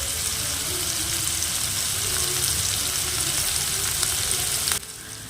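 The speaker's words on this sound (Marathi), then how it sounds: "कांदा आणि टोमॅटो दोन्ही पण व्यवस्थित तेल सुटेपर्यंत आपल्याला परतून घ्यायचे आहेत." Onion and tomato sauté in hot oil with a steady, loud sizzle and frying crackle that fills the whole stretch, dropping suddenly quieter near the end; no one speaks.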